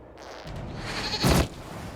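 A goat in the Dragon Age Inquisition video game gives a single bleat, loud and close, lasting about a quarter second over a steady background bed, with no talk.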